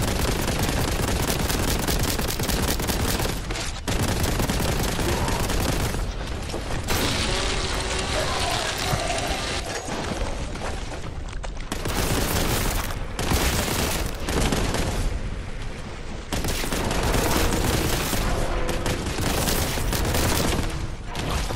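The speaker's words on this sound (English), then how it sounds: "Plasma gun. I forgot that was here." Rapid, continuous weapon fire from a plasma gun in Warhammer 40,000: Boltgun, loud and dense, running through nearly the whole stretch in long bursts with brief gaps between volleys.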